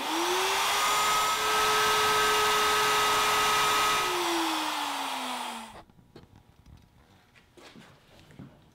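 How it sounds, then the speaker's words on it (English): A plunge router cuts a hinge mortise in a board for a TV lift cabinet top, with a loud, steady motor whine that runs for nearly six seconds and then spins down, leaving faint shop noises. "And now using my plunge router, I'll cut the first mortise."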